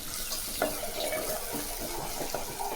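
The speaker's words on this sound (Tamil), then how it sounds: "அதுக்கு தேவையான தண்ணி ஊற்றிக்கணும்" Water poured into a pan of turmeric-sautéed onions for Tamil-style potato masala, a steady close splashing stream that runs without a break from start to finish, with no talking.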